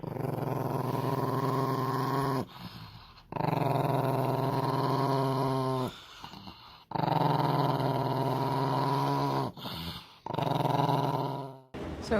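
A dog growls in long, sustained rumbling bursts over a treat, three drawn-out growls separated by short pauses, close and loud.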